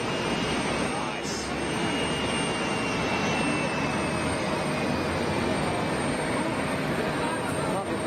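A CRJ regional jet passes close by, a loud, continuous broadband engine roar with a faint whine, steady throughout.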